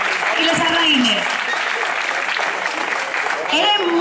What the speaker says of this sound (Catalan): Un aplaudiment per als sarraïns i les sarraïnes.